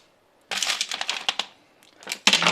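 Small jewellery beads dropping and clattering onto a tray during dismantling for recycling, a quick flurry of light hard clicks, then a pause and a second short rattle, close and fairly quiet.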